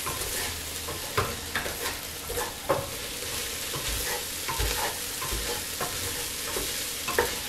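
Garlic and bay leaves sizzle quietly in a pan while being stirred, a soft continuous fry with regular scraping strokes and small clicks of the utensil.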